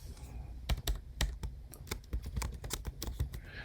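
Rapid typing on a computer keyboard, a close, quiet run of crisp key clicks in uneven bursts with no talking.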